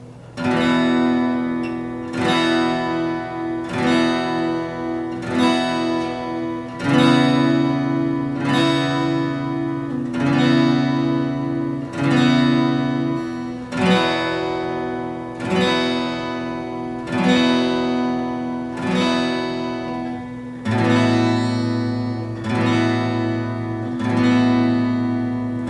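A guitar strums the I–vi–V–IV chord progression of the worship song How He Loves, with steady rhythmic strokes repeating through each chord change, played alone and clearly up close.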